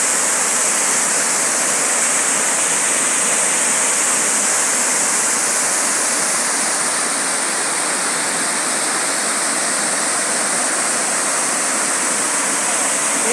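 A tall waterfall in Jaguaruna pours down in a loud, steady, close rush of falling water, unbroken and with no voices over it.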